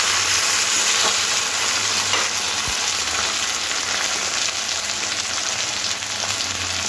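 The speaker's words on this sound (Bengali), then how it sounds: "এরপরে দিয়ে দেবো কেটে রাখা একটা টমেটো। টমেটোটাও একটু ভেজে নেব।" Chopped tomato and onion sizzling steadily in a hot, scorched wok-style pan, a loud continuous frying hiss heard close up with faint stirring scrapes.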